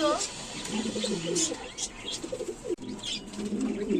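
Pigeons kept as breeding pairs for sale coo softly and repeatedly at close range, with faint chirps and a person talking nearby.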